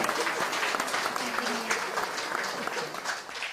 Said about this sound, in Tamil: பிள்ளைக்கு ஒரு கைத்தட்டுங்க